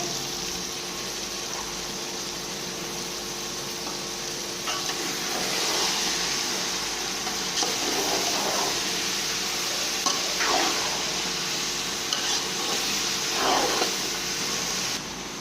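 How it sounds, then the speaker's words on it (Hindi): Potatoes and cabbage frying in a pan as a vegetable pulao is made, a steady soft sizzle with a few brief scraping stirs, fairly faint and with no talking. "अब हम सब्जी को थोड़ी देर फ्राई करेंगे।"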